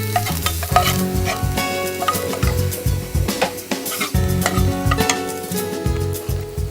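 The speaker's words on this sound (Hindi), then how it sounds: "इसमें 2 कटे हुए प्याज डालते हैं। इसको हम पिंक करेंगे।" Two chopped onions frying in a pan, loud close sizzling broken by repeated clattering stirs of a spoon against the metal, an uneven rhythm of scrapes and knocks.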